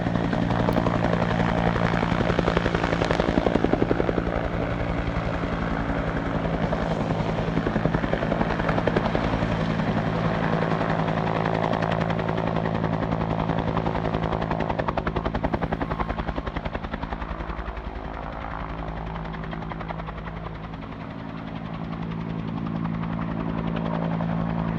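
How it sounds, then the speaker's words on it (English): A helicopter lifting a transmission tower piece in the mountains gives a loud, steady rotor roar with a low throbbing drone, continuous throughout and slightly fading toward the end. "You're going to see that helicopter come through on its second pass here"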